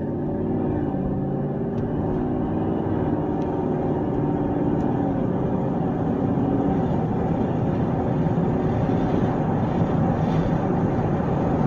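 A 2019 GMC Sierra Denali pickup with a Corsa exhaust drives along, its low, steady engine drone and rumble filling the cabin continuously and evenly, with no voices.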